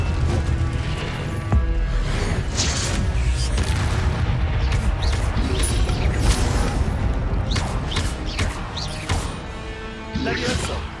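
A fire spell cast during Hogwarts Legacy play on PS5 erupts in a dense, loud barrage of whooshing bursts, booms and crackling thuds that roll on continuously with no pauses.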